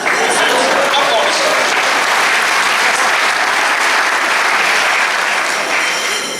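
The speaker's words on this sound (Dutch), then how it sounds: "Applaus." Loud, dense applause from a theatre audience at a Limburg revue performance, continuous and even throughout.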